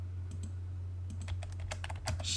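Rapid clicks of typing on a computer keyboard while entering a dimension in AutoCAD, a burst of keystrokes over a steady low electrical hum, no talking.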